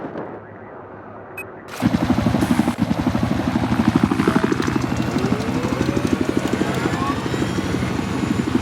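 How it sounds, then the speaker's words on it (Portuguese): Helicopter in the video game Battlefield 4, a steady rotor thrum holding loud from about two seconds on, mixed with rapid gunfire bursts and battle noise after a quiet opening. "parece haver um helicóptero."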